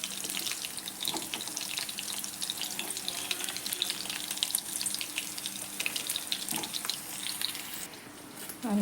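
Oil sizzles steadily in a kadai as moong is tempered, a dense continuous crackle with a few sharper pops and stirring scrapes, heard close with no talk.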